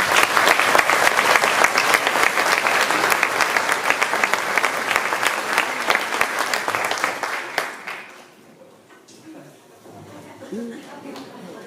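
Audience applause at a school award band concert, loud sustained clapping from the crowd that fades out near the end, leaving a quieter room with faint voices.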